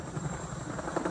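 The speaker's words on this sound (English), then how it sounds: "These trailers were accompanied by helicopters loaded with supplies that went into hard-to-reach areas." A Bell 407 helicopter in flight, giving a steady, loud broadband rotor and engine roar that holds constant across the short clip with no talk.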